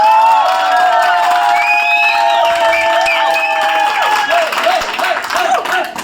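A crowd at a Honda Activa scooter delivery celebration claps and cheers, with continuous applause under loud whoops, high shouting voices and excited calls from many people.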